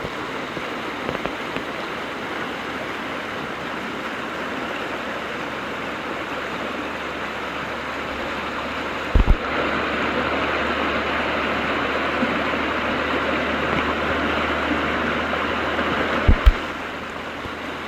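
Creek water flows steadily over a stream bed in late November, a constant broadband rushing wash at moderate level, with two brief dull knocks partway through.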